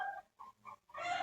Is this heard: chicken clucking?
yes